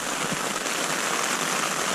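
Steady, dense rain drums on a tent pitched along the Cambrian Way trail in Wales, a constant close hiss with no pauses and no voices.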